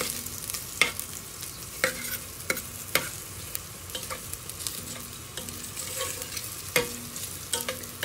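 Onions cooking in oil in a pan, a steady bright sizzle with a spatula scraping and stirring through it in regular strokes, close and fairly loud.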